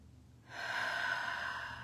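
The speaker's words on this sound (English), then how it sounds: "Nice, deep, cleansing breaths." A single deep, slow inhalation, close and soft, builds after a brief quiet moment and holds steady, with no talking.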